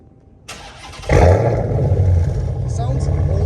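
A Dodge Hellcat Redeye with a newly fitted 3-inch catback exhaust, one muffler fewer than before, fires up after a brief starter whir and settles into a loud, deep, burbling idle close by.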